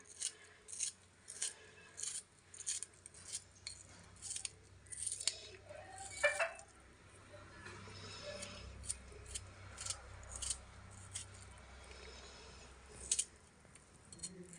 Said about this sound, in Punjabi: ਇਸ ਲਈ ਆਪਾਂ ਇਹਨੂੰ ਬਰੀਕ ਬਰੀਕ ਕੱਟ ਲੈਂਦੇ ਆ